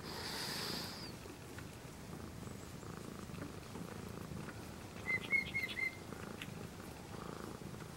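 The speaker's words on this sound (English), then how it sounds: "So there were two different birds there." A small outdoor bird gives a brief series of high chirps midway, faint over a steady low rumble, alongside a nearby cat's soft purring.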